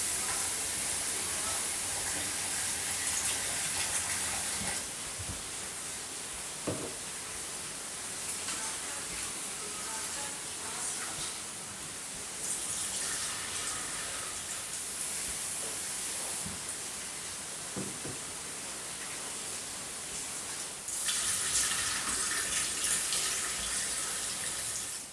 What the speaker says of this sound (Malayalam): ഇനി ഇതിന് വേണ്ടിയിട്ടുള്ള അരി ഒന്ന് കഴുകിയെടുക്കലാണ് കേട്ടോ